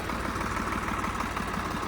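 A self-start tractor, a 95-model Swaraj, idling steadily with a low, rumbling engine hum and regular mechanical pulsing, close by and continuous with no talk.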